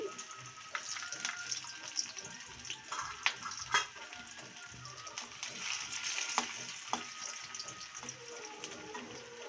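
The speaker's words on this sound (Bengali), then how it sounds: "তেলটা প্রায় গরম হয়ে গেছে কেটে রাখা রসুন কুচি" Chopped garlic frying in hot oil for a potato-greens dish, a soft crackling sizzle with scattered sharp pops and clinks of a utensil, fairly quiet and steady.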